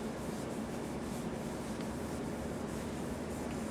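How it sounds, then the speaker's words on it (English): Finish accelerator is sprayed in one continuous soft hiss onto a blue shop towel during a glass-finish job on cocobolo wood. The spray is close and steady. "We're going to spray it on a piece of the blue shop towel"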